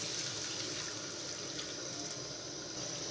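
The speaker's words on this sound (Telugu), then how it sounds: "మనం ఒక పావు గ్లాసు వాటర్ అయితే వేసుకోవాలి ఇందుట్లోకి" Water pours steadily into a masala curry as it cooks, a continuous close splashing rush that lasts the whole stretch with no break.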